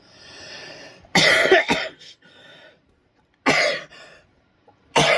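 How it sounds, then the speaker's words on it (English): A person coughs repeatedly in loud, harsh bursts with short breathy pauses between, close up, three separate fits over a few seconds. "I have a persistent cough"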